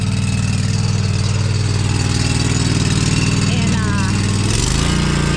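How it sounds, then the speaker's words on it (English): A small riding lawn mower runs steadily close by with a continuous engine drone that shifts in pitch near the end, and a voice speaks briefly over it. "Joe is hopping on the little mower."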